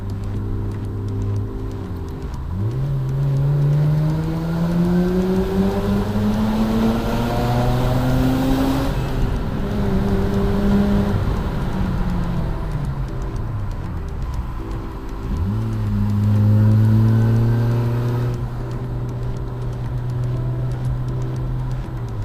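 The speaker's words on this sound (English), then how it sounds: "Really deep exhaust bass note lower down, and then it really winds up as you give it the revs" A Mazda RX8 on a country road revs hard with a deep exhaust bass note, climbing in pitch through two long wind-ups, dropping after a gear change and rising again, loud and close throughout.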